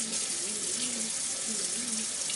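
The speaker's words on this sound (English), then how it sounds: "you just want to wash your hands" Water runs steadily from a sink tap while hands are washed, a continuous close splashing rush with faint tonal wavering underneath and no speech.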